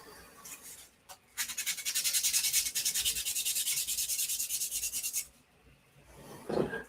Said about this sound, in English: do some sanding here.